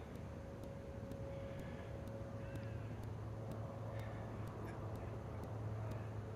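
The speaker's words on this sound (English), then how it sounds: "I hear birds." Birds call faintly outdoors during a walk, with scattered chirps over a steady low hum and a regular faint ticking.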